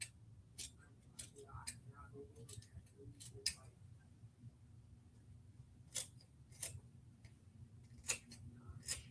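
Scissors snip fabric for puff embroidery on a sweatshirt, a series of quiet, sharp clicking cuts spaced irregularly across the clip over a low background hum.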